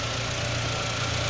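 A used three-row family car's engine idles steadily, a low even rumble with a faint mechanical hum, close and constant with no voices.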